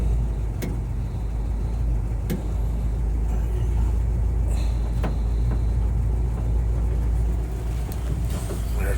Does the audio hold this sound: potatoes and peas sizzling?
no